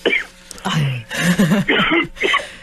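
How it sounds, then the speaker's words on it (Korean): Close, loud coughing and throat clearing mixed with a strained, hoarse voice, in several short bursts, from a radio host in a studio. "바람 때문에 많은 분들이 이렇게 기침이 나오시고 목이 메이세요"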